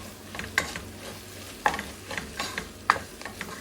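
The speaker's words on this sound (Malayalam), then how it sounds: "ഇനി നമ്മളതൊന്ന് നന്നായിട്ട് മിക്സ് ചെയ്ത് കൊടുക്കാം." Egg fried rice with ketchup being stirred in a hot pan, a low sizzle under several distinct spatula scrapes and clacks at uneven intervals.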